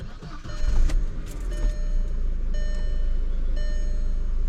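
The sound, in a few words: 2002 Volkswagen Passat wagon engine starting with key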